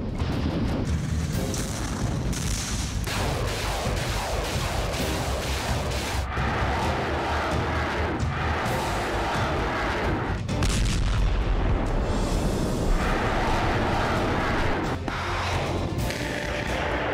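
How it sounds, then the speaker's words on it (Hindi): Anti-tank missile fire and explosions in the Russia-Ukraine war, a rapid run of booming blasts and cracks over a heavy rumble, loud and dense across the whole stretch. "Anti tank missile."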